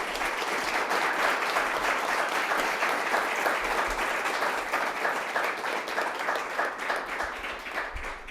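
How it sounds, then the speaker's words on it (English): Sustained audience applause fills a panel discussion room on retail and buyer power, dense and steady throughout, tapering only slightly near the end with no speech over it. "Can we give a round of applause real quick for Khali?"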